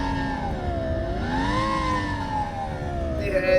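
A SoundRacer device simulates the engine of a Lamborghini Gallardo held at 3,500 RPM, giving a steady, buzzy synthetic drone whose pitch swells slightly and settles, heard alone without talk.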